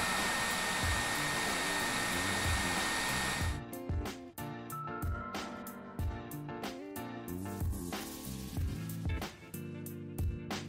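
A heat gun warms the corners of a skin on a Samsung Galaxy A50/A30 phone, a steady close blowing whoosh that runs alone and then goes on under a rapid run of light clicks and taps.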